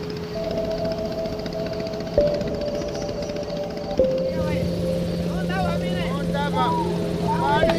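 A river boat's motor drones steadily and close by, holding a constant tone throughout, with a few light chirping calls rising over it in the second half.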